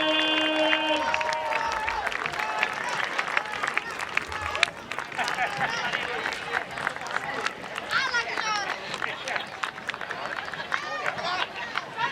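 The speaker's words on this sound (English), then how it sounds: "give a big round of applause" Crowd at a high school football senior night, Bridgewater-Raynham versus New Bedford, applauding the seniors: a steady wash of clapping and cheering that lasts the whole stretch, mixed with crowd chatter and brief tonal public-address or music sounds early on.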